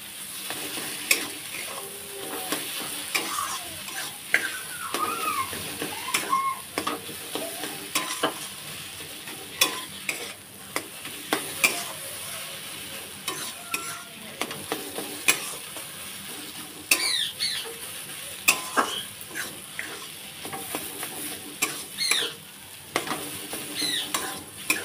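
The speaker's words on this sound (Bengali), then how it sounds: "সব উপকরণ একসাথে ভালো করে মাখিয়ে মিশিয়ে নেব।" Pointed gourd with spices frying in a pan while a spoon stirs and scrapes, steady sizzle with irregular clinks and scrapes throughout, close and fairly loud, no voices.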